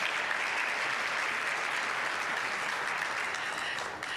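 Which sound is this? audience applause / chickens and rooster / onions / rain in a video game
audience applause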